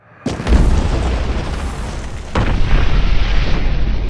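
An RPG rocket blasts against a protective wall in a ballistic high-speed test: two loud, deep booms, about two seconds apart, each followed by a sustained rumbling roar.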